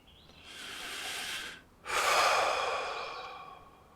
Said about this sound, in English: Let's just take a breath.